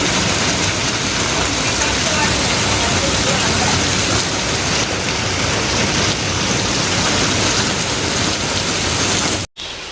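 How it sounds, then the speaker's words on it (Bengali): Steady, heavy rain falls without pause for the whole stretch, a dense even hiss close by, then cuts off abruptly at the very end. "একভাবে সকাল থেকে বৃষ্টি হচ্ছে"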